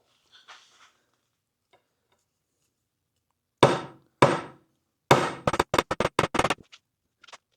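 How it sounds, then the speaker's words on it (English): Hammer strikes drive a muzzleloader barrel tenon into a wooden stock, starting with two loud, spaced knocks and then a quick run of sharp, ringing taps up close, after faint scraping at first. "Just going to hammer until we get the center of the tenon to the center of the barrel."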